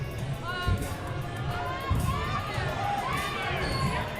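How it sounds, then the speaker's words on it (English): Crowd cheering at a parkour world championship qualifier, a steady roar of voices and shouts with brief louder bursts, heard at moderate distance through the whole stretch. "And the crowd's cheering."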